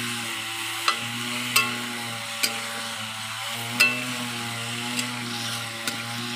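Chicken meat and tomato cook in a pan with a steady low sizzle, broken by a handful of sharp scrape or tap sounds spaced about a second apart, over a constant hum.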